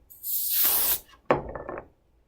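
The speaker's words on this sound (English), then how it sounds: "So I'll get a little cutting mat to spray my canola oil" Canola oil sprayed from a can onto a cutting mat on a kitchen counter, a close, loud hiss of about three-quarters of a second, then a shorter burst that fades out.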